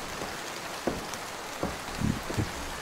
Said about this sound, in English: it's bucketing down outside. Does it always rain so much here?